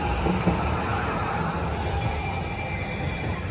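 A train rumbles past close by near the MacArthur Center mall, a steady low rolling roar with broadband rail noise holding level throughout, no voices over it.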